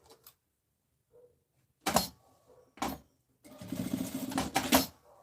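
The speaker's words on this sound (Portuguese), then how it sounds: "em cima do início do zíper e costuro" Sewing machine stitching over the start of a zipper, a few short bursts of rapid needle clatter, then a longer continuous run near the end, with quiet gaps between.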